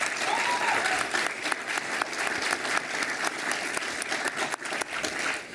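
Audience at a Utah law school alumni awards ceremony applauds steadily, a dense, even wash of many hands clapping in a hall that holds at full strength for the whole stretch.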